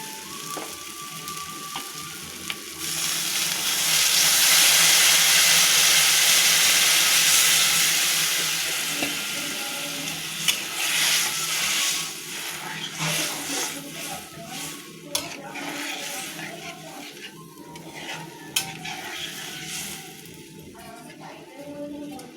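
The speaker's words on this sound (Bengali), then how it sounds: "এখন জল দিয়ে দিবি" Water poured into a hot pan of frying prawn bhuna sets off a loud, rushing sizzle and steam hiss that swells, peaks and slowly settles. Softer bubbling and stirring scrapes follow, with little talk.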